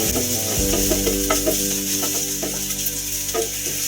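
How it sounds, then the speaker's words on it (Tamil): Bay leaf and ginger garlic paste sautéing in a hot pan for a soya chunks gravy, a steady loud sizzle throughout with a spatula scraping and stirring in repeated strokes, close up and with no talking. "பிரியாணி இலை, இஞ்சி பூண்டு விழுது போட்டு கொஞ்சம் வதக்கிக்கலாம்"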